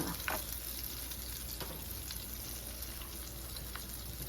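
Ginger and garlic fry in a pan for a Hyderabadi baghare baingan, giving a steady close sizzle with a few faint scraping stirs and no voices.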